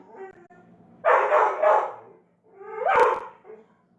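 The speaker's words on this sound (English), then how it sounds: "In case you don't know, this is my dog, Empress." A pet dog gives two loud, close barks in quick succession, then a longer whining, yipping bark after a short pause, with no talk over it.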